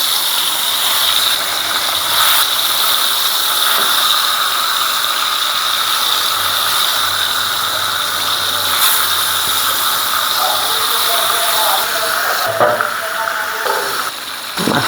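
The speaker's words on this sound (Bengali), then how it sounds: "তেলটা গরম হয়ে গেছে, এখানে দিয়ে দেবো মাছ" Kalibaus fish frying in hot oil in a frypan, a steady hiss and crackle that runs unbroken and fairly loud from start to finish, with a few clatters near the end.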